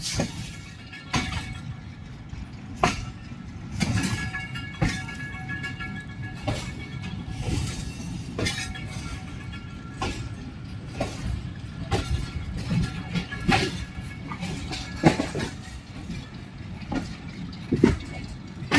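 A passenger train near Sargodha rolls steadily along, its wheels clacking in sharp irregular bursts as it crosses points and switches between tracks, with a continuous low rumble and rattle heard from on board throughout.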